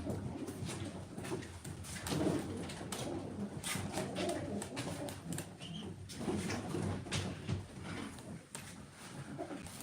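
Takkalı pigeons coo near at hand amid rustling and scattered background noise, with a steady, busy texture throughout.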